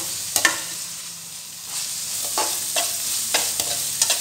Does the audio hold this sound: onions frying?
yes